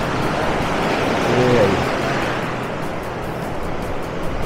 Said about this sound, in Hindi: ये आई है, वो बहुत तेज लहरें आई हैं इस वक्त।